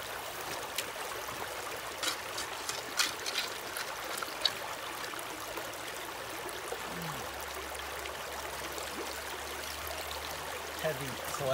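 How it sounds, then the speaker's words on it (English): Water runs steadily through a gold prospecting sluice loaded with heavy clay material, a soft continuous trickling wash at a modest level with a few small knocks and splashes along the way. "I don't have the best water flow right now"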